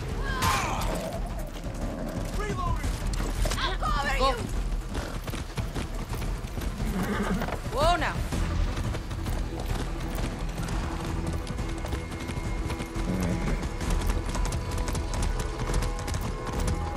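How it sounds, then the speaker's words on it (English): A horse's hooves clip-clop steadily in a galloping rhythm in Far Cry 6 on PS5, with an occasional whinny and game effects layered over a busy, dense background. "Good horse."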